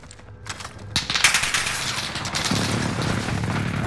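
An airstrike in a battle royale video game rattles out rapid bursts of gunfire that build into a dense, continuous barrage, loud and close with no talking over it.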